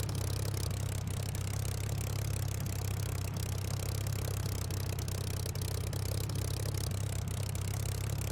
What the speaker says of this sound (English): just the nice dulcet sounds of the Merlin